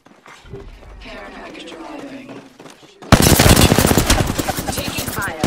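Rapid gunfire in the Apex Legends video game bursts in loudly halfway through as a dense automatic volley, after a quieter stretch with a game voice line.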